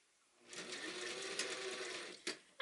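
A sewing machine stitches along an opening in a suit coat sleeve, a steady close motor whir running for about two seconds, followed by a couple of short clunks as it stops.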